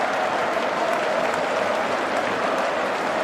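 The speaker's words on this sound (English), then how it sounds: "The whole crowd on their feet. He waves to them, they cheer back." A cricket crowd at Headingley applauding and cheering Ben Stokes: dense, continuous clapping from thousands of spectators, a steady roar that stays even throughout, with no voices standing out.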